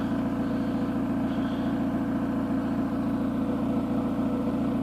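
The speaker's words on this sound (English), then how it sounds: "This is my new muffler on my daily driver here." A daily-driver car idles steadily through a newly fitted replacement muffler, a low, even exhaust rumble that holds constant and close throughout with no talking.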